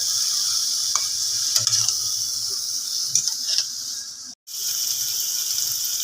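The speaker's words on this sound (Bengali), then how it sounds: "এবার এই বেগুনটা দিয়ে একটু মিক্স করা হচ্ছে" Eggplant frying in a pan is stirred for a begun bhorta: steady close sizzle and hiss with scattered scraping clicks, then a brief break before the sizzling resumes.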